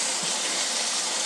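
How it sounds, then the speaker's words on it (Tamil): Dal water poured into a cooking pot of mashed spinach and tomato, a loud close steady gush of liquid filling the pot for about a second, with no talking. "பருப்பு தண்ணி விட்டுடலாம்."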